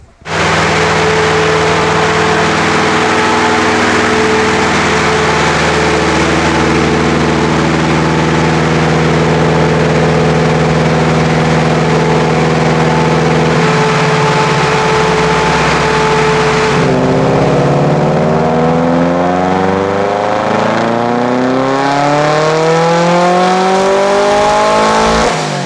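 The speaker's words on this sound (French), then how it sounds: "Je crois que j'ai jamais entendu une voiture aussi bruyante sur le banc." A Subaru engine screams loud on a dyno, its steady high-revving howl holding for long stretches before sweeping up and down through the gears near the end, with no voices over it.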